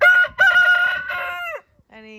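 A rooster, one of a backyard flock of chickens, lets out a loud, close crow lasting about a second and a half, then a softer, shorter call follows after a brief pause.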